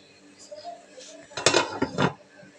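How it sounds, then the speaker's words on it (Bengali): A lid set onto a cooking pot, a few soft knocks then a louder cluster of metallic clatter as it settles, close by. "এখন আমি ঢাকনা দিয়ে ঢেকে দেব।"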